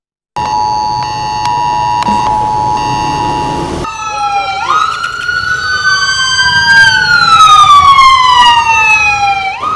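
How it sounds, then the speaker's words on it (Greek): Loud emergency sirens sound during an earthquake drill in Rethymno, Crete: a steady electronic tone first, then overlapping wailing sirens sweeping up and down in pitch, close and continuous, with no voices. "Συναγερμός στο Ρέθυμνο."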